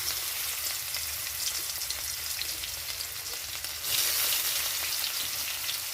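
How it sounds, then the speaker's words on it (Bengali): Garlic frying in hot oil, a steady close-up sizzle and crackle that swells louder toward the end, with no voices. "তেলটা গরম হয়ে গেছে, এখানে দিয়ে দিচ্ছি রসুন"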